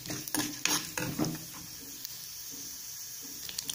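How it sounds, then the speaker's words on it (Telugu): Mustard seeds, chana dal, urad dal and cumin frying in hot oil in a pan, giving a soft steady sizzle with a few faint crackles and clinks, a little louder in the first second and alone without talk. "ఆవాలు చిప్పట్లాడే వరకు ఫ్రై చేసుకోవాలి"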